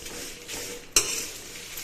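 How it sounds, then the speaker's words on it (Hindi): Whole chillies are dry-roasted in an empty pan with no oil, giving soft stirring and scraping with a sharp metal clack of utensil on pan near the middle and a faint dry sizzle. "मिर्ची को भी रोस्ट कर लेंगे। इसमें कुछ डालना नहीं है, खाली इसको गरम कर लेना है ताकि इसका मॉइस्चर निकल जाए।"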